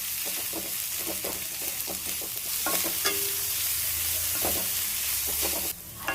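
Cut bitter gourd pieces sizzle steadily in hot oil in a pan, with a continuous frying hiss and occasional scraping stirs of a spatula, close up and without any talking.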